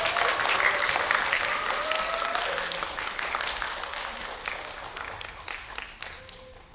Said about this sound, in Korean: 오늘의 주인공 두 분을 무대 위로 큰 박수로 모시겠습니다